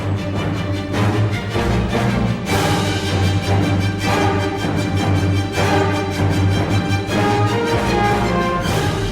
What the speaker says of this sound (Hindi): ये तो चेतावनी यंत्र की आवाज